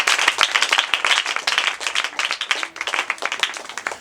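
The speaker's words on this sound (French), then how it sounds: "Est-ce qu'on peut applaudir pour l'ami?" Children at a church Bible lesson applaud a friend, with dense, lively clapping that continues steadily at close range.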